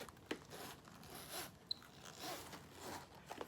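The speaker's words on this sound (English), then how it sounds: "And listen to that zipper." A zipper on a vintage Louis Vuitton travel organizer closes in a faint, quiet pull with a brief sharp click in the middle. Soft rustling runs underneath.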